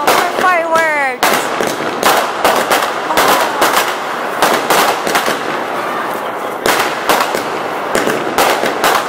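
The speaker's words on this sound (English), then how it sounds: "Oh wow, more fireworks." Diwali fireworks in India burst in rapid, loud cracks and bangs, a dense irregular barrage of sharp explosions after a brief rising whistle at the start.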